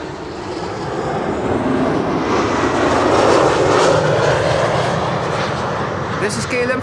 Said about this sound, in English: This is KLM flight 1788 and number 190 arriving from Hanover.